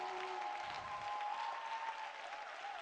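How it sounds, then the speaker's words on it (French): A congregation at a French-language prayer gathering applauds in praise of the Lord, a faint, continuous wash of clapping heard from a distance with a sustained tonal hum beneath it. "Applaudis très bien le Seigneur des Seigneurs"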